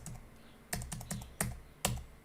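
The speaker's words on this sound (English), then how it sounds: "when I start typing, message goes here" Keys on a computer keyboard are typed in a quiet room, about six separate clicky taps at an uneven pace, close and fairly soft, with no voice.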